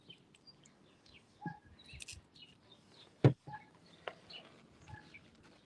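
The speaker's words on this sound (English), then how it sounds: "So many birds out today. It sounds so nice." Birds sing and chirp outdoors in a backyard: scattered short calls and tweets over soft ambient noise, with one sharper, louder call near the middle and no talk.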